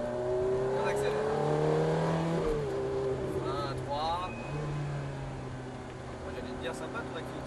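Ferrari F430 engine accelerating from inside the car, a rising harmonic whine climbing in pitch as it revs, then shifting and holding steady, with people talking over it.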